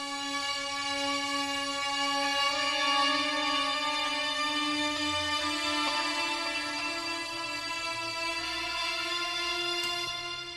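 Layered solo violin carries a slow sustained melody for a Westworld-style score cue, panned left and right, with long held tones swelling gently and a steady, moderately quiet level throughout.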